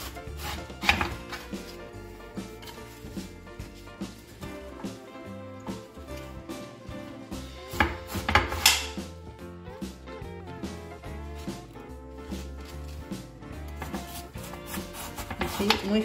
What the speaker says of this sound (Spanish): vamos a empezar por cortar nuestra col